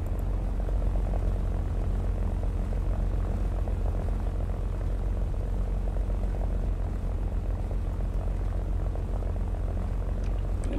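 Propeller engine of a Lavochkin La-5FN fighter in War Thunder, a steady dense drone holding even loudness throughout with no talk.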